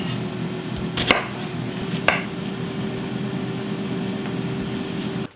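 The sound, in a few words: knife cutting Brussels sprouts in half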